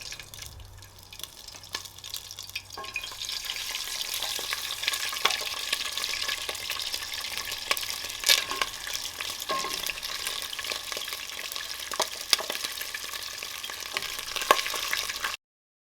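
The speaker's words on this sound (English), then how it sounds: "I'm going to start by frying the chicken." Chicken frying in hot oil for a Nigerian chicken stew, a steady close sizzle with crackles and pops running throughout, no talk.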